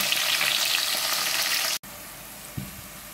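Onions fry in a pan for a spicy beef curry, a loud, continuous sizzle that cuts off abruptly partway through, then returns quieter with a single clunk of cookware.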